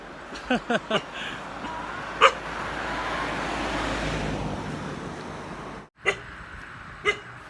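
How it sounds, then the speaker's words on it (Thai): A dog barking at a village entrance in Ubon Ratchathani, Thailand: a few short barks, then single barks later, moderately distant over steady traffic and wind noise. "มันเห่าครับตัวนี้"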